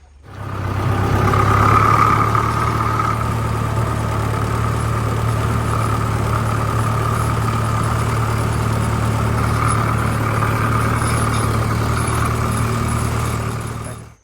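A tractor engine idles steadily with a potato planter hitched behind, a loud continuous low rumble that holds level from start to finish.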